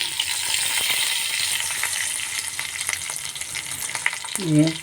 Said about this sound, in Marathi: जरा तेल गरम झालं लसूण टाकायचं थोडीशी मोहरी